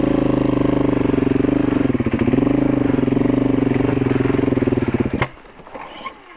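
Dirt bike engine labours loudly up a steep hill climb, a close, throbbing roar with fluctuating revs that suddenly drops to a low idle near the end.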